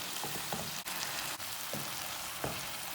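Chicken pieces fry in a hot pan with a steady, quiet sizzle and crackle, with a few louder spits and pops and no voices.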